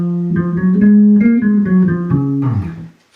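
A bass guitar plucked with the fingers plays a line, a steady run of round, warm notes up close, alone with no voices.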